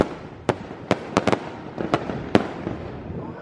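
Sharp fireworks bangs and pops go off in an irregular series, several in quick succession, over a crackling, rumbling background, launched at Universal Orlando Islands of Adventure in the rain.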